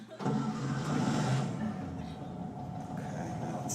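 A stalled car engine being restarted on an Italian road, a steady mid-pitched running engine hum filling the clip up close after a brief start.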